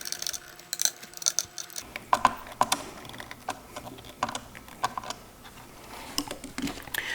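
Screws driven in by hand to fix a replacement speaker in an R33 Nissan Skyline, with a series of small clicking, ratcheting turns and light mechanical taps. The sound is close and moderately quiet, with no talking.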